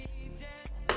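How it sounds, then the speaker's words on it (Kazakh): Chopped tomatoes fry in a pan with a steady, close sizzle, broken by a couple of soft stirring knocks and a brief louder spatter, with no voices. "Қуырылып жатқан қызанағымызға"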